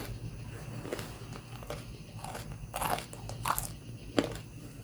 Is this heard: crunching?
yes